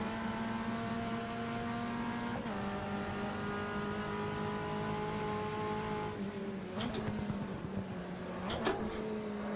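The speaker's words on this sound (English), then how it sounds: "about all this rattling and clicking you can probably hear" A VW Passat lapping Cascavel in the Automobilista racing game, a steady engine drone shifting pitch through gear changes, overlaid with bursts of mechanical rattling and clicking near the end.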